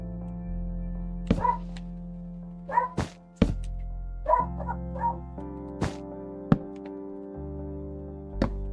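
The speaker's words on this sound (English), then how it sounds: "my little doggo's barking away" A small dog barks indoors in a series of short, sharp yips and barks spread irregularly across the span, fairly close, over a steady low electronic hum.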